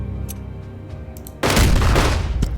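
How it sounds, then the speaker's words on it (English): Tank suppressive fire in Unity of Command 2: low rumbling battle noise with faint cracks, then a sudden loud burst of booming fire that sustains to the end. "we're going to do some suppressive fire with the tank"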